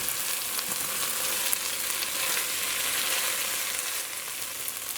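Flour dough pieces frying in a pot of oil give a steady, close sizzle with crackling hiss that holds for the whole stretch and eases slightly near the end.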